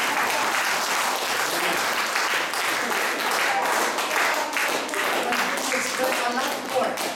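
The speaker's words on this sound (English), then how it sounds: "you have forgotten to clap your hands to the Lord" A church congregation claps their hands during a sermon, producing dense, continuous applause that fills the whole stretch, with voices mixed in.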